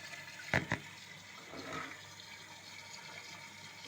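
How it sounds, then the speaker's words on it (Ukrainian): Water sprays from a burst hose inside a bathroom toilet installation, a faint continuous hiss of rushing water, with a couple of brief knocks near the start. "шланг лопнув. Ось, б'є вода."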